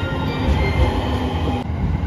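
An EF210 electric locomotive hauls a freight train through Tokushima station at night, bound for Takamatsu freight terminal; a loud, continuous rolling roar with rhythmic wheel noise fills the whole stretch.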